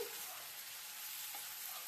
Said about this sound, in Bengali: চিংড়িগুলো এর সাথে হালকা ভাজা ভাজা হোক এখন।